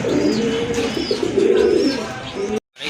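Rajgolla pigeons coo in low, rolling, throaty phrases close by, with a few lighter chirps mixed in, before the sound cuts off abruptly near the end.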